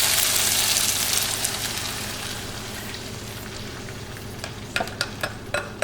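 Eggs hitting a hot pan of cooked tomato paste for Haitian eggs with hotdogs, giving a steady, close, fairly loud sizzle that fades a little, then a few sharp utensil taps near the end.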